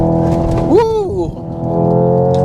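A 2025 Hyundai Ioniq 5 N electric car accelerating with its enhanced synthetic drive sound: a loud, close, layered electronic hum whose tones swoop upward and settle, with a brief vocal exclamation over it.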